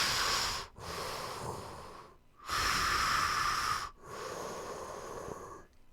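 Heavy mechanical breathing in the style of Darth Vader, made by a voice imitating a respirator: three long rasping breath cycles with short silent gaps between them, loud and close with no speech.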